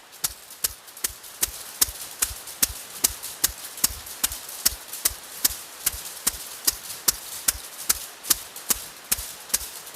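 Hands strike the body over the liver on the right side during a qigong session, giving a long run of sharp, evenly spaced slaps, roughly three per second, close and clear with no talking.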